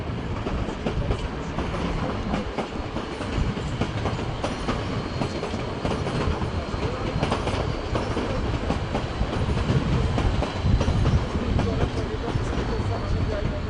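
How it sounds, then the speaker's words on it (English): An IC4 train pulls into München Hbf, a continuous loud rumble with clickety-clack of wheels on rails and occasional faint squeal, with someone speaking over it. "an IC4 just approaching the station"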